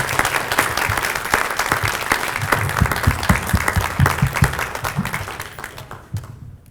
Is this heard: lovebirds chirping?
no